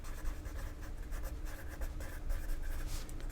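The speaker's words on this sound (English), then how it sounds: "I'm going to write that right there at the top" A pen scratches steadily across the paper of a nature journal sketchbook, a soft, continuous close-up scribbling with faint room hiss behind it.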